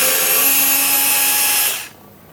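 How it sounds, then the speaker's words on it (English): Powered screwdriver or drill backing screws out of the case of a Riden RD6012 lab power supply, a steady high whirring motor that runs close and loud, then cuts off abruptly near the end. "Just taking out the screws."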